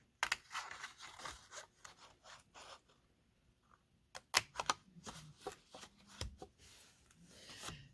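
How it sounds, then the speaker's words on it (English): Scissors cutting away pieces of cardstock along score marks for a handmade tea and treat holder card, with close, quiet snips and paper rustles in short irregular bursts. "cut into the first score mark, and cut those 3 pieces away."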